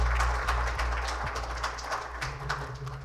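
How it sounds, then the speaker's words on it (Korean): Audience applause at a 2021 Otec Carrier refrigeration sales policy and new product launch event, a continuous wash of clapping from a crowd in a hall over a low hum, fairly even throughout. "박수 부탁드립니다."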